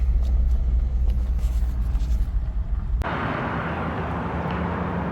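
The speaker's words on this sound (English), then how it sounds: "Excuse the noise, we're parked right beside a road here" A loud low rumble of a passing vehicle close by, then fading into a steady broadband hiss of nearby road traffic, heard from a parked car beside the road.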